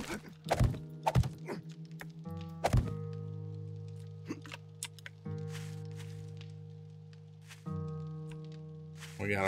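Digging in the survival video game 7 Days to Die, several sharp thunking tool strikes against ground over a droning background hum, spaced irregularly.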